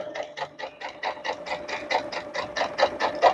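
A sewing machine stitches a potholder seam in a quick, even run of mechanical needle clicks, close and steady for a few seconds with no talking.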